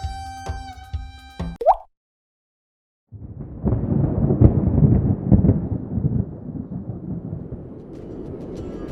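Harmonic tones stop abruptly, and after a pause a deep, rolling rumble of thunder swells with heavy noisy crackling, continuing steadily like a storm with pelting hail.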